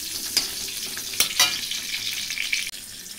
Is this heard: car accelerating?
no